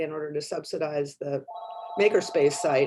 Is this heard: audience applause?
no